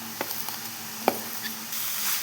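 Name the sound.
stirring grated jaggery and coconut in a pan for modak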